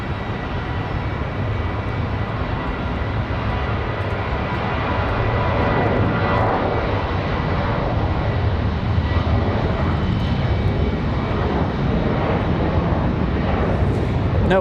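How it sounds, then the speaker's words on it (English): A Delta Boeing 737-9 jet departs Raleigh Durham airport for Atlanta, a loud broad engine roar that builds slightly and holds steady, with a voice faintly talking beneath it. "This one here off to Atlanta. 737-9. Delta 1550."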